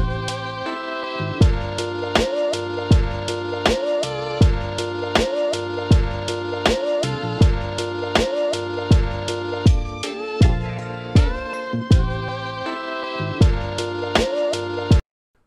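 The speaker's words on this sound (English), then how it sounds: "This is what it sounds like when you add the sample chops with the drum pattern." A hip hop beat in which chopped sample hits play over a drum pattern, giving a steady, evenly spaced run of punchy, tonal hits that continues for about fifteen seconds before stopping abruptly.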